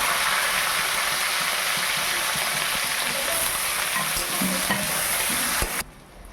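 Onion paste frying in oil with bay leaves, cardamom and cinnamon, a continuous close sizzle with occasional stirring knocks that cuts off sharply near the end.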